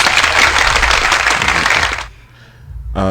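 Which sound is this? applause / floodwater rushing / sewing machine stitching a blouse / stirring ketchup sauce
applause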